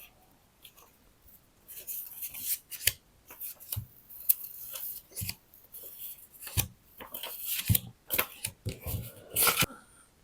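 Scissors snip through paper in quick, irregular cuts, close and fairly quiet, with soft rustling between snips.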